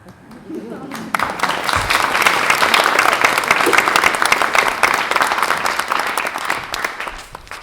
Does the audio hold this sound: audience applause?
yes